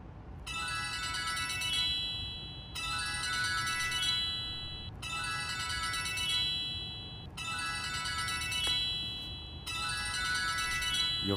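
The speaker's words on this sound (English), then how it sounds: "Your phone is ringing." A phone rings in a repeating electronic ringtone, five bright bursts of about two seconds each separated by short gaps, playing loudly over a low steady background hum.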